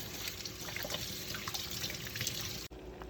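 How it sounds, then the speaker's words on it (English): Hands being washed under running tap water, heard as a steady close stream and splash that keeps going without a break before a brief cut near the end. "You will begin with washing your hands."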